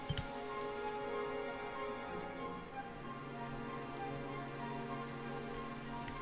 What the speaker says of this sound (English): have to go and start raining, wouldn't it?